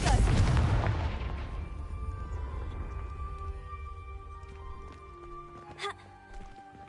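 A Confringo fire spell explodes in the Hogwarts video game: one loud, close boom at the start that rumbles and fades over several seconds, with faint crackles and small bursts later.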